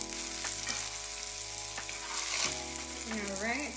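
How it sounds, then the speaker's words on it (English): Mushrooms sauté with a little salt in a pan, giving a soft, steady sizzle with a few light clicks, fairly faint, and a brief tonal sound near the end. "we are going to saute our mushrooms. Right in here, about half a teaspoon of salt on top of them"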